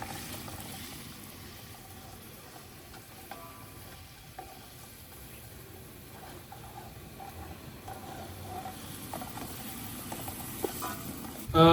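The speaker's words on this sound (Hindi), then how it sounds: "और अच्छी तरह से इन प्याज को फ्राई करेंगे।" Chopped onions frying in ghee in a large pot give a faint, steady sizzle with occasional stirring clinks, and no one speaks.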